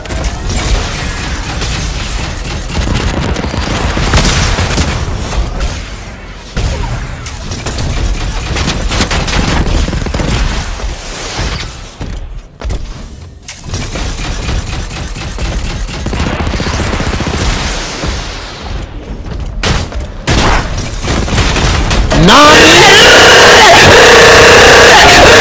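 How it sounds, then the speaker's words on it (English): In a video game, rocket launcher explosions and gunfire form a loud, dense, continuous barrage of booms and rattling shots, ending in a sustained roar. "Rocket launcher!"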